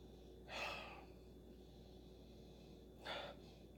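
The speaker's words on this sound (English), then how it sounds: "let's go ahead and we're gonna sniff" Two short nasal sniffs of a Megadeth-branded pilsner beer, close to the mic and a couple of seconds apart, with quiet room hum in between.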